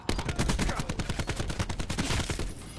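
Sniper fire from a sniper nest in Call of Duty Black Ops 4 pours out as a dense, loud, rapid volley of overlapping shots that continues without pause throughout.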